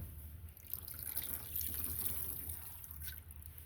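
Water from a garden hose runs steadily with a soft dripping, trickling patter, close and continuous with no talk.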